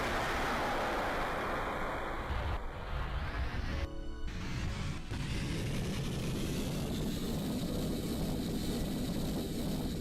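Rocket engine thrust from a slowly lifting craft in a video game: a steady, loud, broadband roar that holds throughout with no talk, only a brief dip in texture partway through.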